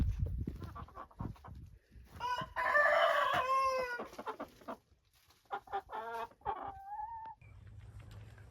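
At a chicken coop, hens cluck and murmur nearby while a rooster lets out a loud, drawn-out crow, followed by more clucking and a few short squawks.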